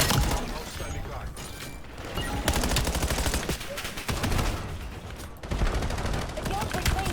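Gunfire in the Black Ops video game, with a Hardpoint match on and an M4 among the weapons: dense, continuous automatic bursts and cracking shots, loud and close, layered with game noise and partly overlapping voice chatter.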